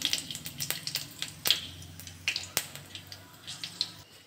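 Dried red chilli, radhuni and five-spice seeds tempering in hot oil in a kadai for dal, giving a faint steady crackle with scattered sharp pops and spits throughout.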